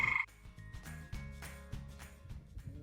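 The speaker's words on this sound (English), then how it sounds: "I stepped out one night and recorded the frogs" Dense chorus of frogs croaking loudly and continuously at night, overlapping calls pulsing in an irregular rhythm with no voices.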